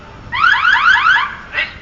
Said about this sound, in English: So the driver of the bus put his assault alarm on, which sounds like this.